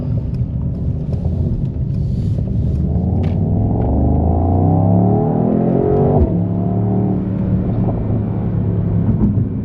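A 2025 Mercedes-AMG GT 63 Coupe accelerates steadily from inside the cabin, engine note climbing in pitch with a clear gear change near the middle before rising again, loud and continuous with no talking.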